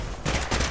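A grenade goes off in a video game shooter as a short, loud blast with dense gunfire-like crackle filling the whole moment.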